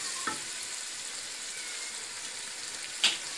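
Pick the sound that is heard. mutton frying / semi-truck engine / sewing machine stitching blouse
mutton frying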